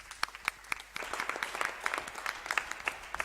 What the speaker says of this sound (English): I think this deserves a good round of applause.